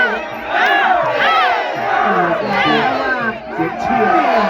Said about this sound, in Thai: เสียงเชียร์